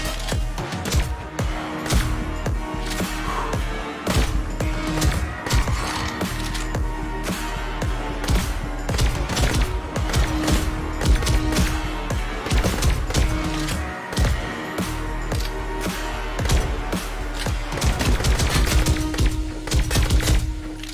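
Rapid pistol gunshots in the VR shooter Pistol Whip ring out in a dense, continuous barrage of sharp cracks over a driving music track, loud and close throughout.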